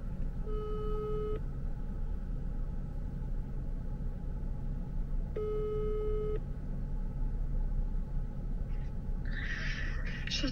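Two long electronic telephone ring tones, about a second each and several seconds apart, go unanswered over a steady low rumble, with a brief bright rustle near the end.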